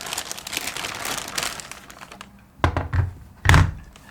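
A Mickey Mouse 90th anniversary Polaroid 600 camera is pulled from a thin plastic bag: a stretch of close crinkling and rustling, then two heavier handling thumps as the camera is set down.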